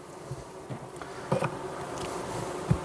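Honey bees buzz on a hive frame during a beekeeping inspection, a steady close swarm drone with scattered louder passes and light handling knocks.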